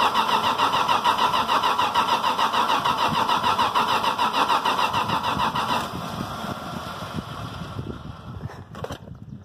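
A 1974 Plymouth Valiant engine cranks steadily with a rhythmic starter churn, then catches and runs rough with a lower, uneven note, loud and close with no talk.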